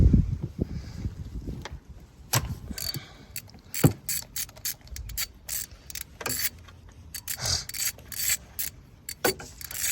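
Socket wrench ratcheting on a spark plug of a 2014 Chevy Camaro V6, repeated close clicking bursts in an uneven rhythm, with a few louder clanks between strokes.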